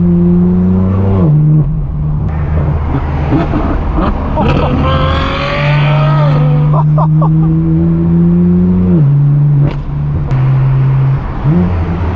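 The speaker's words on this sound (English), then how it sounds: "listen to the turbos on this Porsche." A loud turbocharged Porsche engine roars and revs up close, pitch climbing and dropping through gear changes, with turbo whistle and voices faintly underneath.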